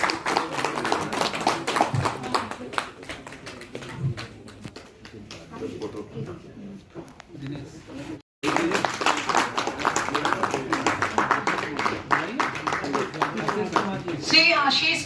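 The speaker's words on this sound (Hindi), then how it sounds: "श्री अजय कुमार विश्वकर्मा जी के लिए जोरदार तालियां।" Applause at a national meeting rises in a long burst of clapping from the audience, broken by a brief pause and continuing loudly afterward, with a speaker's voice heard over it.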